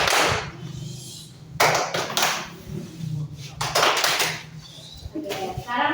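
A classroom of students performs a rhythmic silence-signal clapping pattern (tepuk diam) during a cooperative jigsaw lesson, with several sharp bursts of claps spaced across a few seconds over low room murmur.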